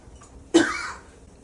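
One single close cough bursts out abruptly and fades over a fraction of a second in an otherwise quiet kitchen.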